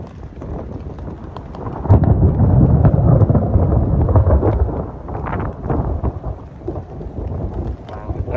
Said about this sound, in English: like the ground literally shakes when that thunder goes